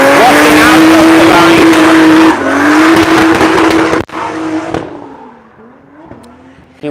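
A drift car powered by a Toyota 2JZ engine screams past at a practice session in Cyprus, tires squealing loudly over a high, steady engine note, then the roar fades as the car moves away.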